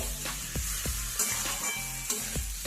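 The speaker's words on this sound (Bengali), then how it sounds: "লবণ আর হলুদ দিয়ে দিচ্ছি। এরপর আমি নেড়ে চেড়ে ভেজে নেব।" Potatoes fry with salt and turmeric in a pan, a close, steady sizzle broken by rhythmic scraping knocks of a spatula stirring them, with no talk.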